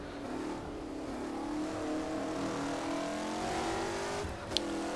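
A race car engine in the rFactor racing game drones steadily through a gear change, the pitch climbing then dropping and resettling, with a brief sharp click near the end, continuous and fairly distant.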